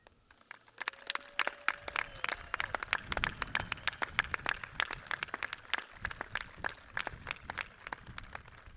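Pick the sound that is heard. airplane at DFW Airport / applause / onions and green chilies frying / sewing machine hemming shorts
applause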